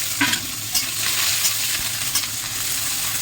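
Chopped onion goes into a pan of frying spiced chicken with cumin, giving a steady close sizzle with a few stirring scrapes and no voices.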